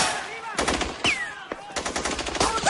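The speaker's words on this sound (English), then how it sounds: "Alina, you've seen the shooting. It is still going on" Rapid bursts of machine-gun fire crackle in a chaotic film battle scene, with sharp repeated shots in clusters, a whistling streak, and voices shouting briefly underneath.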